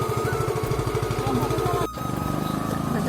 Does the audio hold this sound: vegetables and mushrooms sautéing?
no